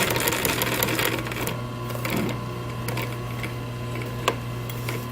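A sewing machine hums continuously at close range as it runs a 1/4 inch top seam along a headrest strap, with light ticking from the mechanism and one sharp click near the end.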